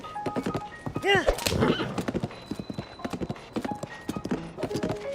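Horse hooves clip-clop in Zelda: Tears of the Kingdom, a quick, close run of hoof thuds with a short neigh near the start, under game effects and light speech.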